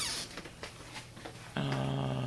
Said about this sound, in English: You pet the dog every time.